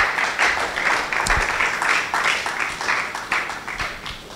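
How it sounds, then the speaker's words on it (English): Audience applause at a closing ceremony, a dense, steady patter of many hands clapping throughout, moderately loud with a roomy feel and no one speaking over it. "Thank you, and clap for yourself."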